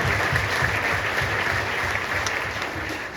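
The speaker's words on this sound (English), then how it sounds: "let's make sure that everybody also has a round of applause for the Democrats" Town hall crowd in Warren County applauding, a thick continuous patter of many hands at even loudness with a slight low rumble underneath, easing a little near the end.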